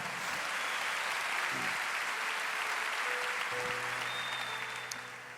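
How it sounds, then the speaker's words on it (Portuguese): A church congregation applauding during a Portuguese-language sermon, a steady wash of clapping that fills the whole stretch at even loudness, with faint musical tones entering toward the end. "Alguém deu glória a Deus e alguém aplaudiu ao Senhor."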